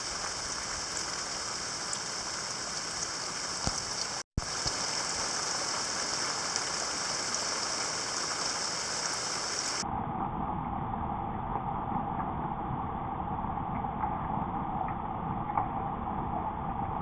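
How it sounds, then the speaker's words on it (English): Heavy thunderstorm rain pours down in a steady, dense hiss that carries on without a break, briefly cut off once, then turns duller and more muffled for the rest of the stretch. "the heavy rain's about to come over."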